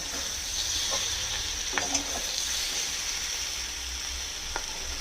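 Spiced vegetables for a dry vegetarian sabzi fry in a pan, with a continuous close sizzle and scattered scraping stirs and clicks, no talking.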